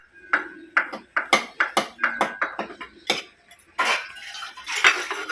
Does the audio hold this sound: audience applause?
no